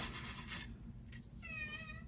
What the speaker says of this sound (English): And my cat just walked in.